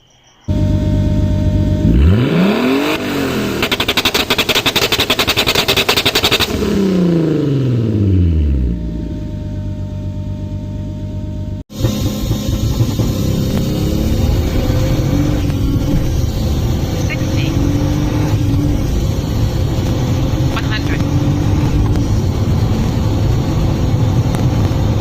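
A car launching hard off the line using launch control, engine roaring loud and near with a rising rev sweep, then a sudden break into steady heavy road and engine rumble as it pulls away.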